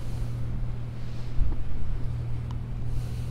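Steady low rushing and swishing of water along a sailboat's bow as it sails from Camaret toward Roscoff in a force 6 southwest wind, with a constant engine-like hum and some wind buffeting, no voices.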